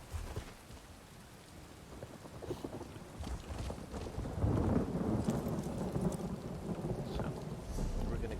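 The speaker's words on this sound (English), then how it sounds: "right now it's raining. It's all rainy and thundery" Thunderstorm in Elder Scrolls Online, with steady rain pattering and a deep roll of thunder building midway, heard alone at a soft, distant level.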